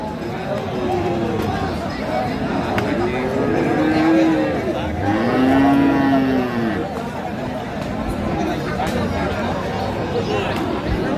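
Cattle moo repeatedly, long drawn-out lows rising above the steady chatter and bustle of a busy cattle market selling Friesian and crossbred bull calves in Dinajpur, with people talking nearby throughout.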